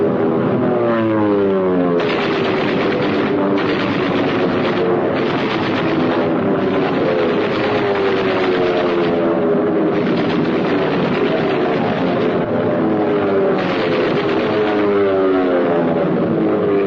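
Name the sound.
World War I military airplanes flying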